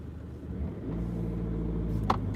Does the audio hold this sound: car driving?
yes